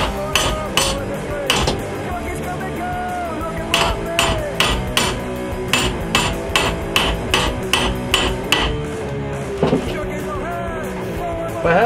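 Repeated metallic hammer blows on a 1095 steel knife blade being straightened to remove a bow, worked without an anvil; sharp, evenly spaced strikes, close and loud, with ringing overtones across the whole stretch.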